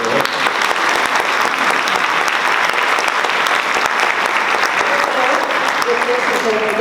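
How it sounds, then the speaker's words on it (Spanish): Loud, sustained applause from a conference audience at a panel on best LGBT workplaces, dense clapping from many hands with faint crowd voices and a brief murmur of speech underneath near the end. "Un aplauso también para IBM."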